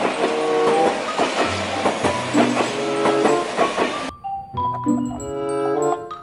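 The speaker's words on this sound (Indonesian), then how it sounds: "Widih-widih, ada kereta api cepat." Toy fast train running along its track, a steady clattering rumble with rhythmic clicks for four seconds, then a cut to a brighter mechanical whirr and chiming tones.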